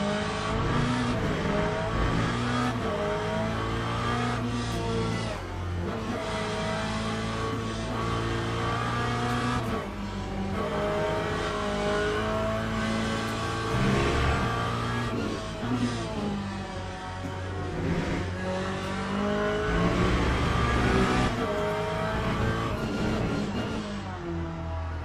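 A race car engine in Le Mans Ultimate hums and whines continuously for a long stretch, its pitch sweeping up and down as it revs while pulling out of the pits. The sound is moderately loud, with no talking over it.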